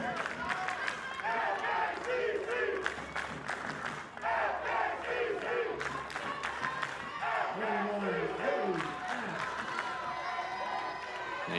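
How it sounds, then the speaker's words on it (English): The Floyd's Knobs crowd at a Little League softball game cheers, yells and claps behind their pitching and defense in a sustained, lively roar with some voices standing out. "You can start to hear the Floyd's Knobs crowd trying to get behind their pitching and their defense."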